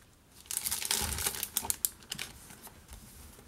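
Crinkly paper with a slightly roughened surface is handled up close, giving a quiet flurry of crackling and rustling that peaks in the middle and tapers off.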